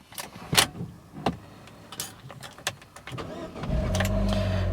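A car engine cranks and catches, settling into a steady low idle hum after a few clicks and clunks from inside the vehicle.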